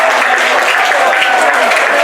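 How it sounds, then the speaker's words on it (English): Crowd applause at a rugby league match between Whitehaven and Hunslet greets a player, a steady dense wash of clapping that fills the whole stretch without a break. "he's getting a good round of applause"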